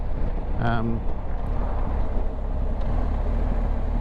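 Steady low wind rush buffets the helmet while riding a BMW GS motorcycle fitted with a windscreen and Puig extender, a continuous broadband roar with a brief tonal chirp early on.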